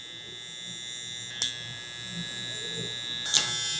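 Electric hair clippers buzz steadily and close by while cutting curly hair for a low taper haircut, with two brief sharper bursts as the blade meets the hair.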